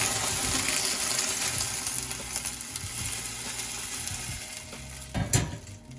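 Stock pours and splashes into a sizzling small pot, a steady gushing rush that tapers off, with a brief clatter near the end.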